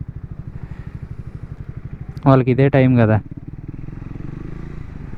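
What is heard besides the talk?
motorcycles with modified exhausts and tuned engines at night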